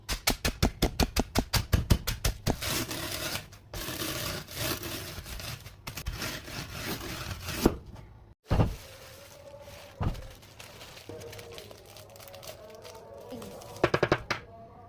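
Food, apparently chips for a coating, is crushed into crumbs. A quick run of rhythmic close pounding gives way to loud crunching, scraping and a few sharp knocks.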